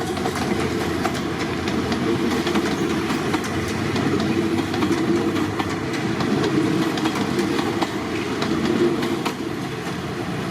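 GEK 4031 diesel locomotive hauling train 208 from Nakhon Sawan in Thailand, a steady loud engine rumble with rhythmic clickety-clack of wheels over rail joints throughout, with no talk.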